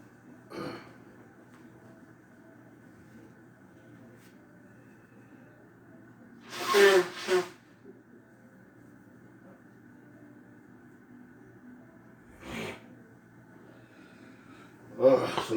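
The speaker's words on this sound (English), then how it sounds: "gotta blow my nose" A person blows their nose in two quick, loud bursts near the microphone, preceded and followed by fainter snorts and sniffs against a quiet indoor background.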